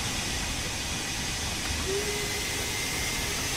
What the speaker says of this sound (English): That releases the brakes nice and quickly.